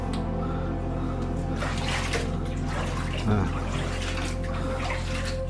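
Steady rushing water runs continuously underground, loud and close, with a brief gurgle partway through.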